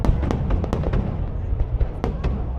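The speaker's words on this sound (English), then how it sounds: "under the lights of this spectacular fireworks show" A New Year's Eve fireworks show over the Saigon riverside, with loud, dense bursts and crackling pops in quick succession over a constant deep rumble of nearby explosions.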